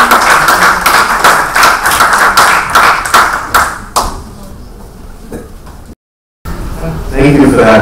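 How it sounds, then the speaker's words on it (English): Audience applause at an evening session of a health talk: rapid, loud clapping for about four seconds, then thinning to scattered claps before a short silence, with a voice speaking afterward. "please put your hands together with a big, big round of applause"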